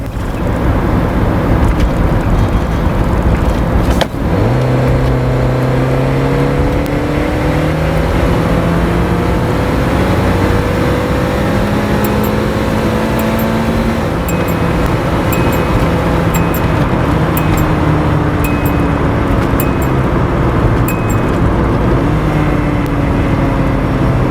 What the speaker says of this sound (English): pure sound, recorded directly from inside the engine bay